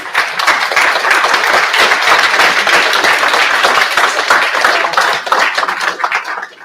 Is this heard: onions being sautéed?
no